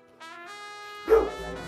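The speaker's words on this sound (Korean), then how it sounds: "아, 짖지 마." Dog barking indoors, heard as a sustained tonal whine or yelp followed by a single louder, sharper bark near the end, fairly close and with no talk over it.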